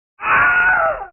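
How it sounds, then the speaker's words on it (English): A single loud, long scream in the style of the Wilhelm scream stock effect, rising sharply and holding for about a second before breaking off, heard alone. "Add the Wilhelm scream."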